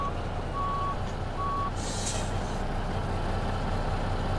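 A semi truck backing a trailer in American Truck Simulator sounds its reversing alarm: steady, evenly spaced electronic beeps over a constant low diesel rumble, with a short burst of air hiss partway through and no talking.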